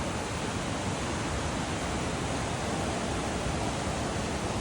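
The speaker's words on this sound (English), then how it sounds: "Creek is right down there." A creek flows somewhere below a bank on an overgrown woodland trail. It makes a steady, dense rush of water that runs without a break, with no voice over it.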